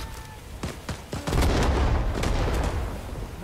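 Gunfire in the Vietnam-era shooter Rising Storm 2: Vietnam, on the DMZ map, with rapid sharp shots and a few louder bursts over a dense rumbling battle din that fills the background throughout.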